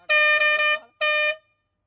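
A bus-style air horn fitted to a vehicle in Sri Lanka blasts twice up close, a long loud bright blare followed by a shorter one after a brief gap.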